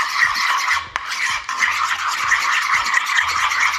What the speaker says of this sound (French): Et après du coup tu vas mélanger ces 3 ingrédients.